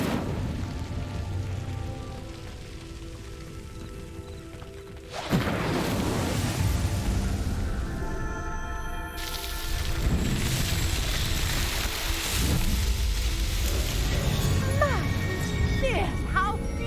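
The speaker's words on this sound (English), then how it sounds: "Incendio!" The Incendio fire spell cast in Hogwarts Legacy during a Merlin's Trial: a sudden loud whooshing burst of flame that swells into a sustained roaring crackle, then rises again for a fuller blaze lasting several seconds, with no talking.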